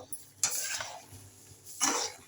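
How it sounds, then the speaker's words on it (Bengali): Raw okra and potato being sautéed in spice masala in a pan, with two bursts of scraping stirs and sizzling separated by a quieter low simmer, close and moderately loud. "আরও ভালো করে কষিয়ে নেব"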